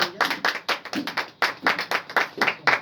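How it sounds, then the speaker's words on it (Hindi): Sparse applause from a small group at an awards celebration, individual claps clearly distinct in an irregular rhythm, nearby and moderately loud. "जोरदार तालियां इनके लिए"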